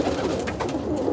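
Older pigeons cooing close by, a short soft burst of throaty coos, no talk.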